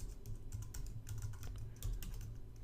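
Quick, soft clicking of computer keyboard keys as a terminal command is typed, an irregular close-up run of keystrokes with no voice.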